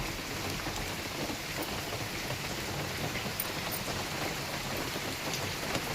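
Rain falling steadily in a residential colony, an even patter of drops hitting surfaces with a constant hiss, quite faint and uninterrupted, with no speech.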